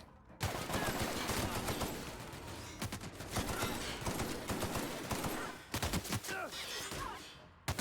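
In the video game The Outer Worlds, rapid gunfire rattles almost without pause in loud, dense volleys, with a few brief gaps and sharp trailing shots near the end.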